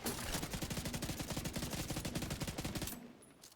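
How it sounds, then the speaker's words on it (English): A full-auto exotic pistol fires in The Division 2, a rapid, even stream of loud close shots that cuts off abruptly near the end, leaving brief quiet. "So here's the shield with your new pistol, and it sounds really cool."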